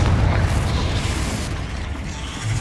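In Hogwarts Legacy, the Confringo explosive spell goes off as a deep, rumbling boom that fills the short moment, loud and dense with no voices over it.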